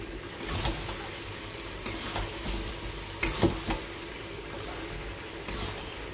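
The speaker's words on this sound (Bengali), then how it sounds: "বাড়িতে বানানো গরম মশলা 1 চামচ মতো দিয়ে এটা মিক্স করে আমি ডিমটা নামিয়ে নেব" A spoon stirs homemade garam masala into an egg curry in a pan over a low, steady sizzle, with a few soft clinks and scrapes scattered through it.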